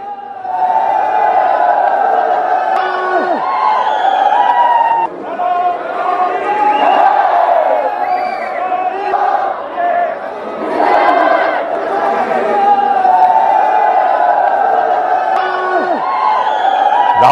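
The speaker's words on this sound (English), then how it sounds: "Locals cheered him on." A large crowd in Leh's main market in Ladakh cheers and chatters nonstop as Rahul Gandhi arrives. The dense, loud wall of overlapping voices and shouts holds steady throughout, with only a brief dip midway.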